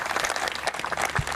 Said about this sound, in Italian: l'applauso dei partecipanti alla messa e alla giornata di festa